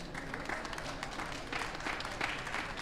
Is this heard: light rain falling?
no